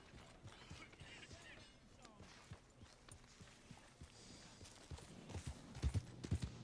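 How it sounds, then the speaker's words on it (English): Iron Grey Ardennes draft horse in Red Dead Redemption 2, its hooves clip-clopping in a steady, soft walking rhythm alongside faint tack creaks, growing a little heavier toward the end. "Big chonky horse, the Iron Grey Ardennes."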